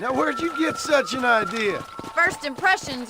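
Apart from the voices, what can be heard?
No everyday noises stand out.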